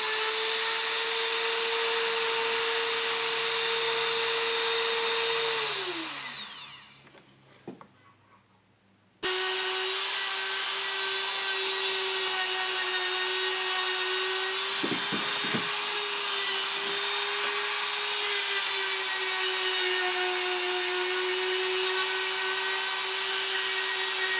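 Rotary tool with a carbide bit porting a Ford 351 Windsor cylinder head for a Foxbody build: a loud, steady high-pitched whine that winds down and stops, then restarts and runs continuously at a constant pitch, with occasional scraping contact.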